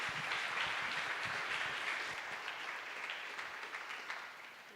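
A church congregation applauds a couple, dense continuous clapping that fills the room and slowly thins toward the end, heard at a moderate distance.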